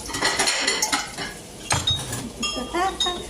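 Dishes and cutlery being washed in a kitchen, with steady clinks and clatters of utensils against plates and pots, close by, with brief quiet murmurs.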